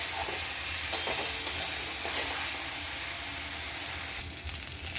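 Onion, garlic, ginger and chili paste sizzling in a pan for palak paneer, a steady moderate frying hiss with a couple of light spoon clinks and some stirring toward the end.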